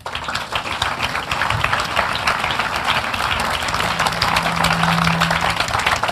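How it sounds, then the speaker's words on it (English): A church congregation claps steadily together, a dense continuous roar of clapping that holds for the whole stretch, with no speech. "Clap for Jesus."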